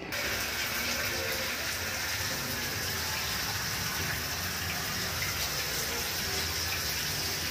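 Water gushes steadily from a tap fed by an electric water pump on newly installed PPR pipes in a multi-storey building, a continuous even rush heard close up with no pause.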